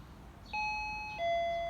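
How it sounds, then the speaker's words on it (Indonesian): An apartment intercom doorbell with a built-in camera, in a Japanese boarding-house flat, is pressed and gives a clear two-tone electronic chime, the second note lower and ringing on, close and alone. "Nah ini ada kayak CCTV gitu, sekalian bel. Ini kalau dipencet,"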